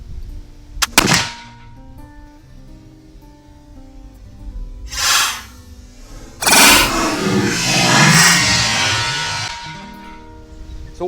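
A paddle butt wheellock carbine firing outdoors, beginning with a sharp click and snap, a spin-like hiss, then a loud roaring discharge that rolls on for several seconds before fading.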